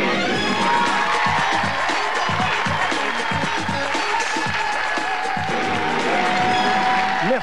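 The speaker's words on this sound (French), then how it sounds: "Merci pour vos applaudissements." A studio audience at a televised singing show claps and cheers loudly and continuously, with whoops rising over dense applause and voices blending into the crowd noise.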